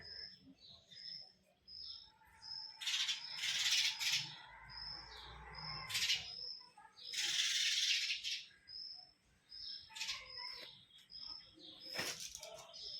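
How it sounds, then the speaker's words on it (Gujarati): Sparrows chirp in the morning at a Gujarati family home, repeated high twittering calls near and fairly clear, mixed with bursts of rustling, a rattle and faint background noise. "ચકીબેન ચીચી ચીંચી ચીંચી કરતાં બેસી ગયા છે"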